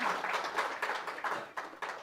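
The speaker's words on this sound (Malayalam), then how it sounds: "ഒരു കൈയടി കൊടുത്തേ" An audience applauding at a stage event, a burst of many hands clapping in uneven waves that rise and dip over a couple of seconds.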